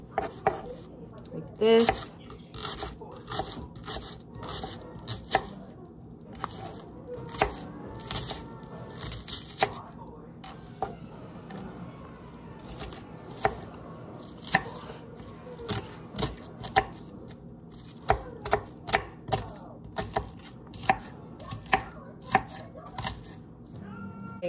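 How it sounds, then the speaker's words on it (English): A knife chops an onion on a board in a long run of crisp, irregular chops, some in quick bursts and some spaced apart, with faint clatter and a brief voice at one point. "Cut this onion"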